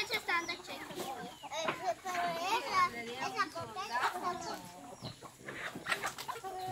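Chickens cluck and squawk while being fed corn on a farm, busy and close, with children's voices and Spanish talk mixed in throughout.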